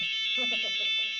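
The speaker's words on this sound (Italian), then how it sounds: "sarà stata questa dichiarazione ad attivare più volte l'allarme antincendio nel cinema dove Verdone" A cinema fire alarm sounds, a loud, continuous high electronic tone with a voice speaking faintly beneath it.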